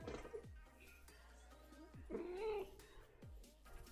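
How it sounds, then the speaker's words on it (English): A pet cat gives a few soft, drawn-out meows, one longer wavering call in the middle, heard fairly quietly in an indoor room with faint background noise. "There's a meow."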